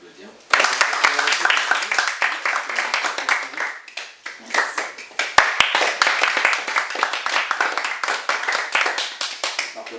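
Applause from a small group at a coaching and training session: close, crisp handclaps burst in, dip briefly midway, then pick up again, with voices talking over the clapping.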